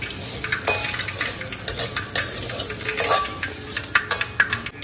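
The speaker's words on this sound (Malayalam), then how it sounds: "ഈ കുറച്ച് വെച്ചിട്ട് നല്ല ഗോൾഡൻ കളറിൽ വറുത്തെടുക്കണം" Grated coconut fries in a pan until golden, sizzling steadily while a utensil clinks and scrapes against the pan in irregular strokes. There is no talking.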